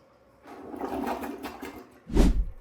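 Household toilet being flushed after unclogging attempts, a quiet rushing of water followed by a short louder gush near the end, heard close up.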